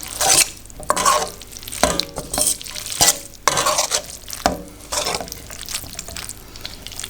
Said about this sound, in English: that means blending the spaghetti with the sauce